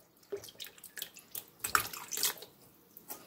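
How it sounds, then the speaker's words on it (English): Fresh strawberries rinsed under running tap water, faint splashing and trickling in irregular soft bursts, close by and quiet. "we want to make sure we wash the strawberry very well"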